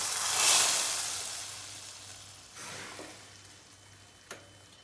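Tarragon crackles and sizzles in hot fat for soup, a strong hiss that swells early and fades, with a short burst midway and a sharp tap near the end.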